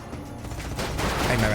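Gunfire sound effects from the strategy video game Age of Wonders: Planetfall, a thin, continuous burst of shots that swells slightly louder toward the end, heard alongside faint voices.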